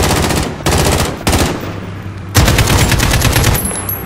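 Teammates fire automatic weapons in Call of Duty: Modern Warfare, with loud, close, rapid bursts of machine-gun fire broken by short pauses and then a long sustained volley.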